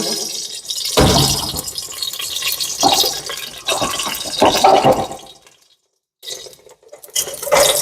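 Avocado oil pouring into a cooking pan, a splashy, liquid trickle in several bursts with a brief silent pause before it resumes.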